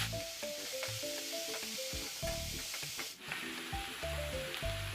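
Masala idli pieces fry and sizzle steadily in a pan, close by. A tonal hum runs through it, with occasional knocks and scrapes of stirring.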